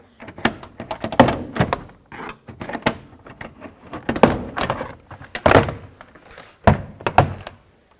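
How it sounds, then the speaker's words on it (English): A rapid series of sharp plastic pops and thunks, close and loud, as push clips on a 2005-2009 Chevy Equinox door panel are pried loose one after another with brief pauses. "pop off all the push clips."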